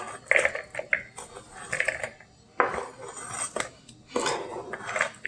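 An onion being chopped into chunks in a home kitchen, with sharp clinks and knocks of a knife against a board coming in uneven bursts, close and clear, with no talking.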